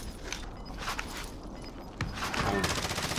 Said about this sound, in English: Oh, they're shooting from other side.